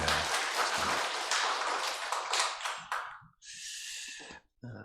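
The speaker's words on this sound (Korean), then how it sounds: "하나님께 영광의 박수를 돌리겠습니다" Church congregation applauding during a Sunday service: a dense wash of clapping for about three seconds that tapers off, followed by a brief, quieter stretch of different sound.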